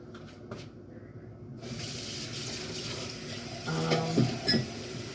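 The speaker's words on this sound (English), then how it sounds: "But what I'm going to do is also add more water." Tap water runs while a crock pot is filled. The flow starts abruptly after a quiet opening and becomes a steady rushing spray, with a few clunks and knocks near the end.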